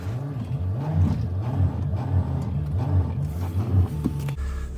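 A car stuck in snow revs hard while backing up, its engine surging in rapid repeated rises and falls with wheels spinning, loud and close, then cutting to a lower idle at the end.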